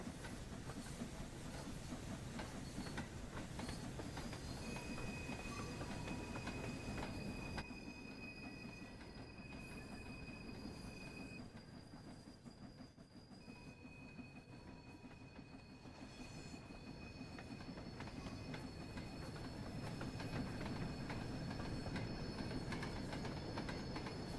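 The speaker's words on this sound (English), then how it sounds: "Leave the cocks open for a little while because the cylinders would have got a bit cold during all that shunting." Steam locomotive in Train Sim World 3 on the Peak Forest route, standing with its cylinder cocks open after shunting, giving a steady hiss and rumble with sustained high whistle-like tones and squealing wheels, loud and continuous without talk.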